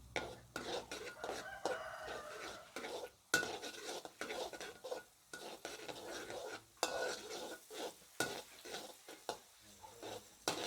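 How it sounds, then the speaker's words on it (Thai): Garlic fries in a pan as a spatula stirs it, producing irregular clanks and scrapes of metal utensils against cookware over a faint sizzle, close and fairly quiet, with no talking. "เจียวกระเทียมหอมๆ ไว้โรยหน้า"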